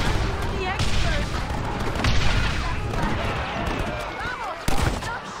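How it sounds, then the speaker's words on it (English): Gunfire in the Western game Red Dead Redemption, a dense barrage of shots and booming blasts that keeps going without a break, with shouting voices mixed in. "Stop shooting!"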